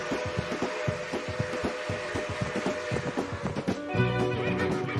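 Several horses whinny and neigh over a steady clatter of hooves, with calls rising repeatedly above the busy, fairly loud herd noise throughout.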